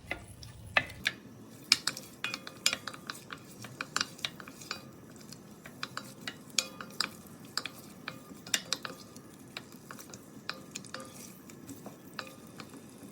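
A spoon scrapes and clinks steadily against a hot pan as onions are stirred, with a faint sizzle underneath and irregular sharp taps close by, and no talking.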